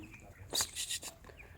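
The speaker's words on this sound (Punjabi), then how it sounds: "ਚੂਚਾ ਸਾਡਾ ਆ ਗਿਆ ਚੂਚਾ।" A young chick chirps in a few short, high, bright peeps close by in a quiet room, with no voices.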